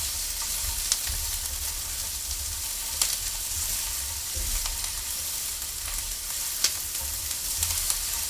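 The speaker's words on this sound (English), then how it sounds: "Waiting for the onions to get translucent." Onions frying in a pot give a continuous, moderate sizzle with a few sharp ticks and clinks scattered through it.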